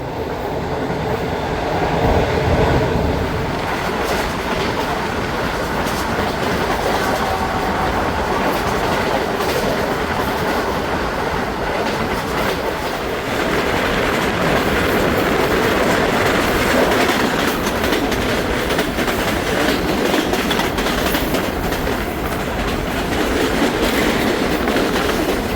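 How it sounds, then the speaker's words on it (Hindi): Shalimar Express train running steadily on rails toward Lodhran Junction, a loud continuous rumble with rhythmic clickety-clack of wheels over rail joints and occasional faint squeal, heard from inside the carriage with no voices. "और ट्रेन पहुंच रही है लोधरा जंक्शन"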